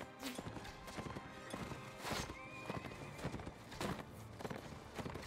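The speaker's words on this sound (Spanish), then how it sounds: "¡El caballo!" Horse hooves clip-clop and a horse neighs amid clattering battle noise in the Mount & Blade Warband Lord of the Rings mod, with steady galloping beats and a whinny rising over the din.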